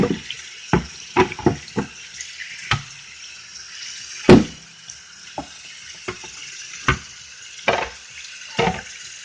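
An alternator is rinsed under a sink tap during cleaning, with running water splashing and irregular sharp drips and knocks as the part is handled close by.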